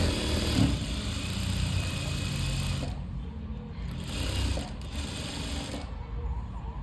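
A sewing machine stitches lining to the main fabric of a puff sleeve, running in a continuous whirring stretch and then two shorter bursts with brief pauses between.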